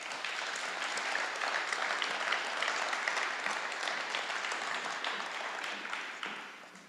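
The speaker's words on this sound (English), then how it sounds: "Please give a warm round of applause" Audience applause at a senior honors night, congratulating an American Legion Auxiliary scholarship recipient; steady dense clapping throughout, tapering slightly at the end, with no talking over it.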